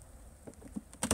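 Honey bees of a Caucasian line feed inside a winter hive in frosty weather, giving a faint, low insect hum with a few soft buzzing bursts that swell near the end.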